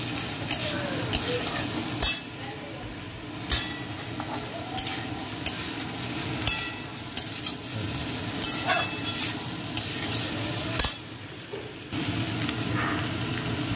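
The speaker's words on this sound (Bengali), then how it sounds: "এবার এটাও ভালো করে নাড়াচাড়া করে নেব।" Potatoes, pointed gourd and onions fry in a wok while a spatula stirs them with steady scraping strokes over a continuous close sizzle, with a few sharper clatters along the way.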